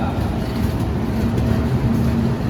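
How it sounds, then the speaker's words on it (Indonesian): Steady low rumble and rolling hum of a Bandung Raya commuter train arriving slowly at a station, loud and close, with faint tonal squeal; continuous, no clear speech. "dari arah barat sedang masuk kereta api komuter lain Bandung Raya"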